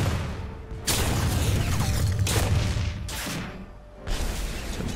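Tank cannon fire in the War Thunder video game, sharp loud booms cutting in at intervals over a constant rumbling engine and battle noise, with no talking.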